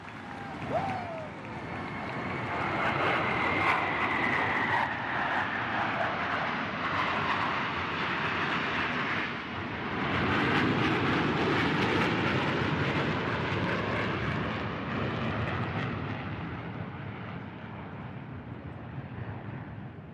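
Garuda Fly aircraft pass overhead during an Indonesian Independence Day ceremony, a loud sustained engine roar that swells and holds with a slowly shifting whine, continuous for about twenty seconds with no break.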